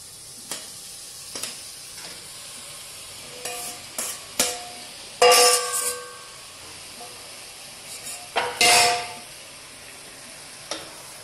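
Minced mutton keema in a pan, heard as a low background sizzle broken by sharp bursts of spoon-on-pan clatter and stirring, several short clusters spread over the stretch.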